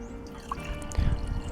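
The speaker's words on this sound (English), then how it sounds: "pour myself a nice cup of tea" Hot tea being poured into a cup, a brief trickling splash of liquid that swells toward the end, close and fairly quiet with faint background noise.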